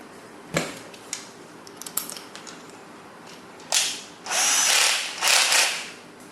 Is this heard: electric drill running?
yes